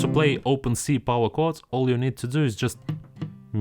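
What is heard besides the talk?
No everyday noise stands out behind the speech.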